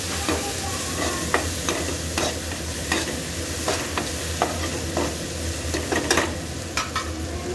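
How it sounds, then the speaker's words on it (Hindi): Spices tempering in hot oil in a pan for dhaba-style eggplant bharta, a steady loud sizzle with scraping stir strokes every second or so, close and continuous without speech. "गाइस इसको बीच बीच में हमें चलाते रहना है ताकि हमारा जो छोक है वो जले ना।"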